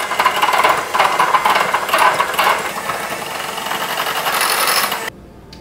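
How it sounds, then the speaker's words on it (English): A pink electric hand mixer whirs steadily as it beats a batter, a continuous motor drone with pulsing surges, loud and close, before cutting off abruptly near the end. "So I got my pink mixer."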